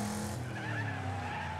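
Race cars in the racing game Wreckfest skid and crash through a big takedown, with a steady tire-squealing screech over engine roar, continuous and fairly quiet, no voices.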